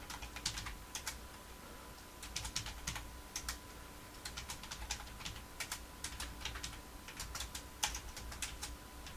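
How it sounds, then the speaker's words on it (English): Quiet, irregular clicking of computer keys in short bursts and runs, close to the microphone, with a low steady hum underneath and no talking. "Now we'll start typing here."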